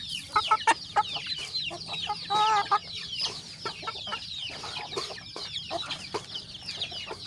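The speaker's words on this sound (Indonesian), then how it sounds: "Ini ayam kalau begini mah senang banget ya." Chickens clucking in a coop, a flock of hens giving repeated short clucks and brief calls at close range, irregular and lively against a quiet background.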